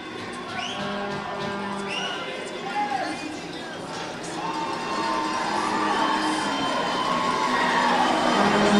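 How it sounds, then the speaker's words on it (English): A packed hockey arena crowd in Thompson, Manitoba roars and cheers during a junior league playoff game, the noise loud and sustained and swelling toward the end, with shouting voices throughout. "this crowd is going crazy here, folks"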